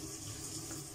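Tap water running into a cooking pot in a home kitchen, to boil pasta; a faint, steady splashing gush that lasts the whole second with no talk.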